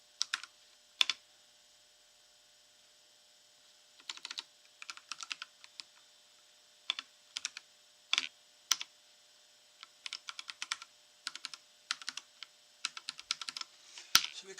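Bursts of clicky computer keyboard typing as a command is entered in a GhostBSD terminal, close and crisp, in short irregular flurries separated by pauses.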